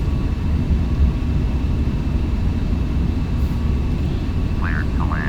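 Steady broadband roar of a Boeing 737 airliner on landing approach in Flight Simulator, a continuous loud engine and wind rumble with faint tonal chirps near the end.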